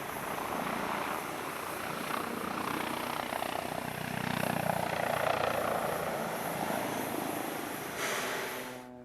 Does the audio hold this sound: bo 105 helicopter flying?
yes